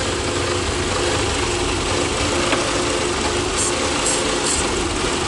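A car engine idles steadily during a smoke vacuum leak test, a loud, even, continuous hum with no change in rhythm and no talking.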